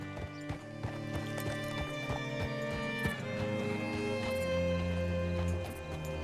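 Horse hooves clip-clop in a steady walking rhythm, close by, over a low musical backdrop in Red Dead Redemption 2.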